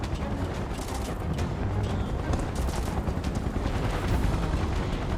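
Soldiers in Final Fantasy VII Remake open fire in a dense, continuous barrage of loud gunshots and booming impacts that never lets up across the whole stretch.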